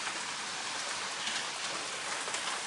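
Heavy rain pours outside near a porch, a dense, even hiss of drops striking surfaces close by, continuous and steady without any voices.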